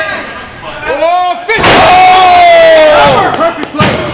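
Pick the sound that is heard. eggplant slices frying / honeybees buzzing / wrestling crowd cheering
wrestling crowd cheering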